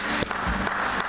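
A church congregation claps together in a short, fairly quiet burst of applause, the claps blending into a soft patter inside the worship hall.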